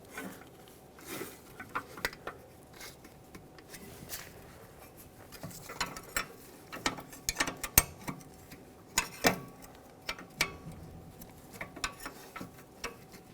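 A wrench turns very tight caliper bracket bolts on a 2013-2018 Hyundai Santa Fe rear brake in short increments. Sparse, faint metallic clicks and ticks come in irregular clusters against a quiet background.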